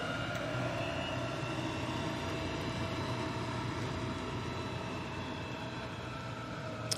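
A Sun Express Boeing 737 MAX 8 comes in to land, a steady broad jet roar that holds at an even level throughout, with a slight easing toward the end and no voices.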